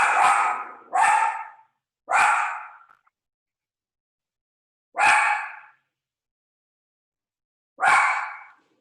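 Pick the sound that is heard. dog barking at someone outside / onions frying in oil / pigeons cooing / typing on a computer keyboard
dog barking at someone outside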